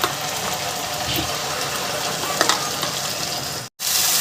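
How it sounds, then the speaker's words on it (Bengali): Ground spice paste fries with browned onions in oil for a spicy prawn curry, a dense continuous sizzle close by with faint stirring clicks and no voices. "এবার আমি বেটে রাখা মশলাটা এর মধ্যে আস্তে আস্তে করে দিয়ে দেবো"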